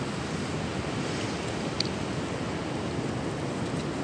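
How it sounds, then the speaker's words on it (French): Strong winter wind roars steadily through a lakeside bivouac campsite, a dense, continuous rushing with no letup and no voices. "Vous entendez ce vent ?"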